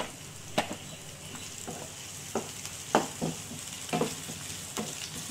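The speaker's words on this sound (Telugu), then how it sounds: "బాగా ఫ్రై అవ్వాలి." Green chillies fry in a pan for beetroot egg bhurji: a quiet steady sizzle broken by several soft stirring scrapes and taps.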